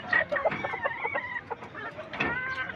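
Desi chickens on a farm cluck and call in a quick, chattering series of squawks and short crowing-like notes, fairly close, with no voice over them.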